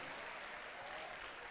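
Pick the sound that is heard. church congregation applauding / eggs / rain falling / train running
church congregation applauding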